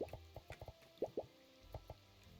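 Potatoes being watered in the farming game Sun Haven: a run of soft, quiet watery drips and plops, about a dozen, irregularly spaced.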